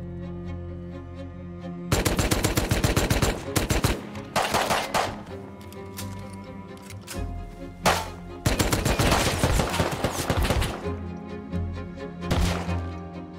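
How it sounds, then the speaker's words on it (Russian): Gunfire in the survival game Rust comes as loud bursts of rapid automatic shots separated by short pauses, with some single cracks in between. "они меня замечают и начинают по мне стрелять"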